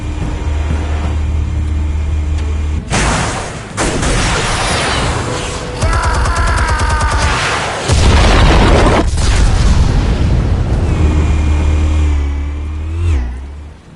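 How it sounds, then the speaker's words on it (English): Loud booming explosions from explosives detonating in a Batman video game, several heavy blasts with rumbling aftermath and engine-like roars mixed in over about fourteen seconds. "Explosives armed. Fire when ready."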